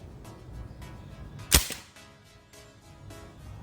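A SIG Air MPX CO2 air rifle fires a single .177 pellet outdoors on a warm day, giving one sharp, close pop followed by a short fading tail, with faint background noise around it.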